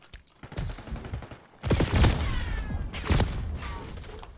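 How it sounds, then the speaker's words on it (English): Gunfire from a hip-fired weapon in a video game comes as rapid, rattling bursts of shots, loud and close, in several clusters over a few seconds. "I'm hip firing him and nothing is happening."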